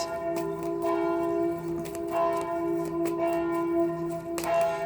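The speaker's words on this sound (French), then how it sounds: "Je vais attendre que les cloches s'arrêtent." Church bells ring continuously, with repeated strikes and long sustained ringing tones overlapping in a steady peal.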